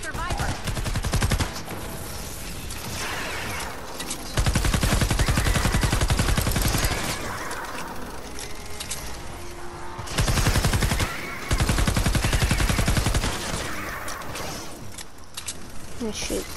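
Sustained automatic gunfire in the Fortnite Save the World video game, long dense bursts broken by short pauses, loud and close, with game voices and effects underneath.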